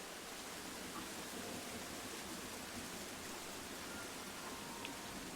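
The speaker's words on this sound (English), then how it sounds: "the rain began to fall" Rain falls steadily in the video game Levar's Life, an even, hissing wash of droplets that stays constant throughout with no voices.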